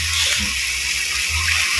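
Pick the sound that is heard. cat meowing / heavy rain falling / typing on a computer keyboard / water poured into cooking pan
water poured into cooking pan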